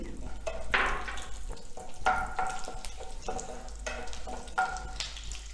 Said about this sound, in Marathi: आपलं तूप गरम झालेलं आहे त्यामध्ये मिरची